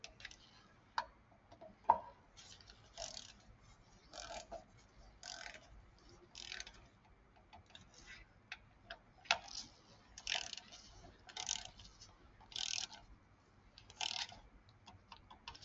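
A torque wrench tightens engine valve cover bolts on a Subaru engine, giving faint, repeated clicking ticks in short uneven bursts over a quiet background.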